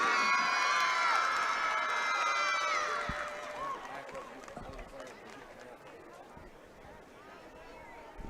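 A crowd at a high school football game cheering for the cheerleaders and dance team, high shouts and screams that fade after a few seconds into a busy murmur of chatter and scattered noise.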